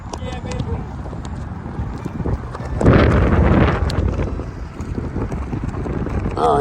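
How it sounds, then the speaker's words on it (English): Wind gusts buffet the microphone out on Raritan Bay during kayak striper fishing, a broad steady rush that swells louder for a second or so midway, with a voice coming through over it. "This wind came out of nowhere, man."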